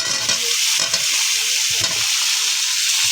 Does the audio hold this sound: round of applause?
no